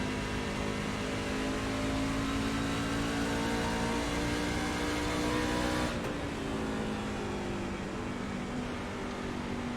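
Racing truck engines at Iowa Speedway roar loudly and continuously, throttle rising and falling in a droning whine, with a sudden shift in pitch midway as the field sweeps past.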